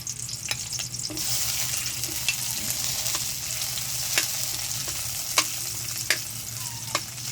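Tomatoes sauté in a pan for ginisang tuyo, giving a continuous close frying sizzle with sharp intermittent clicks and taps from stirring.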